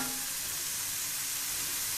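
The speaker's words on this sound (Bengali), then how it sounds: "একটু জল দিয়ে দেব যাতে তেলটা ফেটে যায় পুরোটা" Vegetables fry in hot oil in a pan after a splash of water, giving a steady, close, even sizzle with no talking over it.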